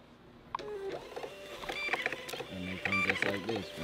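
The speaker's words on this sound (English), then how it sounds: "y'all see the label printer. We're gonna go ahead and go print these" A label printer runs off shipping labels for a clothing brand with whirring, stuttering mechanical feeds and rhythmic motor pulses, heard close at moderate volume with a voice faintly in the background.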